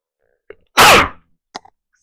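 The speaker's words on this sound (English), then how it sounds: "Someone may have just sneezed." A single loud, sharp sneeze bursts out close by, lasting about half a second, with a couple of small mouth and throat sounds just before and after it.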